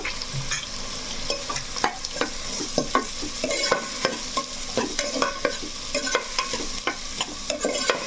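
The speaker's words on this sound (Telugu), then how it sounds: "మనకి ఉల్లిపాయలు అనేది బాగా వేగాలన్నమాట బ్రౌన్ కలర్లో వచ్చేసేయాలి" Onions frying in a pan for chilli garlic chicken curry, a bright continuous sizzle with frequent quick scraping stirs of a spatula, close and alone without voices.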